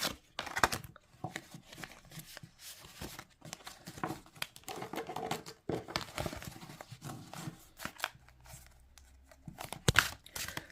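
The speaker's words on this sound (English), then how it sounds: "So let's just shuffle these cards." Large tarot cards from a pastoral-themed deck being shuffled by hand, giving repeated papery riffles and soft flutters with brief crinkling bursts and taps at close range, no talking.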